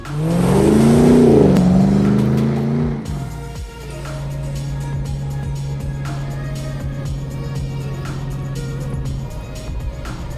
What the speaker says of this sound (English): Captiva is powered by our LS3 V8 engine with 6-speed automatic transmission.